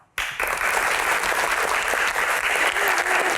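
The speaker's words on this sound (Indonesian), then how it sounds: "Tepuk tangan sekali lagi Bapak Suharyanto." Applause from a studio audience at a televised Q&A broadcast on disaster response bursts in suddenly and holds steady as dense, loud clapping, with a few faint voices mixed underneath.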